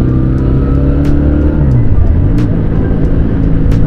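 Benelli Patagonian Eagle 250 motorcycle running with a deep, Harley-like low thump, a steady loud engine rumble held close and alone throughout, with no talking.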